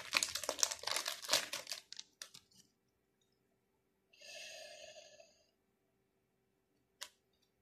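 A foil AFL Teamcoach card pack is torn open with a burst of crinkly ripping and rustling, followed by a few soft crackles, a brief hissy swish, and one last sharp crinkle, close and fairly quiet.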